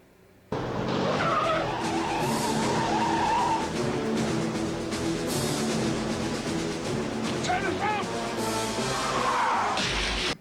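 An armored military vehicle from the film Aliens drives hard and skids, a loud engine roar with repeated tire squeals and scraping bursts lasting about ten seconds, accompanied by faint shouting.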